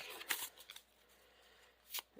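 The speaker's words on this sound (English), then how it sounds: "So we'll go ahead and shuffle our deck." A deck of Marvel Champions game cards is shuffled in quick, soft riffling bursts, one near the start and another near the end, with quiet pauses between.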